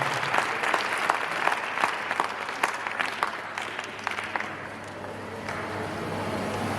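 A crowd at a public event in Adamawa State applauds, sustained dense clapping with a few sharper claps standing out, gradually thinning toward the end over a steady background hum.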